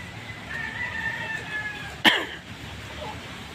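Chickens and roosters in a breeding pen make faint farmyard calls, and one short, sharp cry stands out near the middle.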